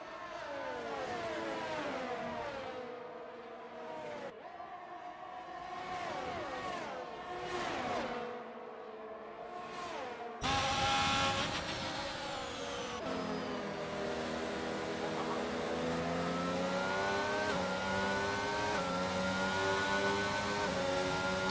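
Race car engines in a Formula-style racing video game on a fast straight at a Saudi Arabia Grand Prix circuit, repeated rising whines through gear shifts, then louder layered engines from several cars, steady and continuous without talking.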